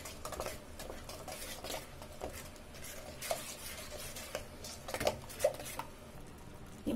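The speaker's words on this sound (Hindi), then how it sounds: "इनको सब हम मिला देंगे आपस में।" Coriander powder, red chilli powder and colour chilli powder being mixed together for mutton korma, a soft continuous scraping of a spoon against a bowl with light clinks and taps, close and fairly quiet.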